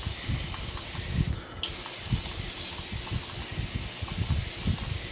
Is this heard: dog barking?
no